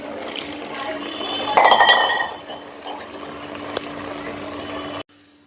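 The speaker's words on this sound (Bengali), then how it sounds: "আমি জলটা দিয়ে দিছি" Water poured into a pan of gourd greens cooking with shrimp gives a bright splashing burst over steady kitchen background noise, then a quieter simmering fill before cutting off.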